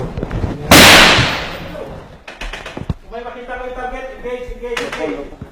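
A loud close gunshot blast during a special forces engagement in the Philippines, followed by sharp cracks and shots as voices talk over the firing.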